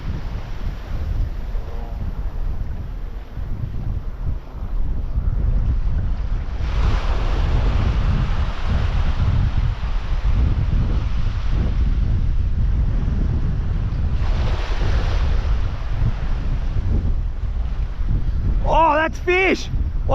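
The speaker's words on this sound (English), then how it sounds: "that wind just takes it" Wind gusting over open water at a remote Australian fishing spot, a steady loud rushing roar that swells in waves and buffets the microphone, with a brief voice near the end.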